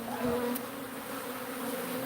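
Bees from a wall nest drone in a steady, close, continuous buzz with a low hum, no talking over it.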